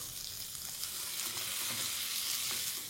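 Chopped garlic fries over medium heat in oil and butter in a frying pan, a soft, even, continuous sizzle with faint stirring movements and no voices.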